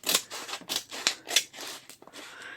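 Scissors snipping through a strip of faux leather for a journal cover, a rapid run of crisp, close cuts in quick rhythm that thins out toward the end, with no voice.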